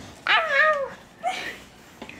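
A human voice mimics a cat's meow, a clear drawn-out mew followed by a second softer meowing sound, fairly close and alone.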